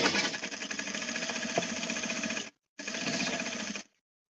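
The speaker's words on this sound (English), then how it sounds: "Sewing is so satisfying." A sewing machine stitching a shirt dress gives a fast, steady mechanical buzz in two runs separated by a brief pause, close and fairly loud, with no talking.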